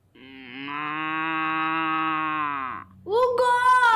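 A girl imitates a cow, giving a long sustained moo followed by a shorter, higher second moo, close and loud.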